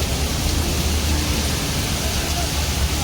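Heavy monsoon rain pouring steadily, a loud, dense, unbroken hiss of water falling close by, with no clear voices.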